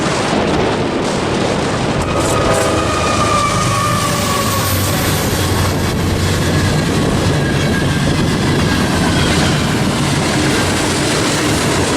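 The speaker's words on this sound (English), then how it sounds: "5499 East leads train MKCCB21, a manifest freight train from Kansas City to Council Bluffs" Union Pacific manifest freight train led by locomotive 5499 rolling past outdoors, a loud continuous rumble and rattle of cars with steady clickety-clack, wind noise mixed in throughout.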